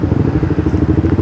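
Yamaha XSR motorcycle exhaust, a loud close rumbling burble with a rapid pulsing beat over a short moment.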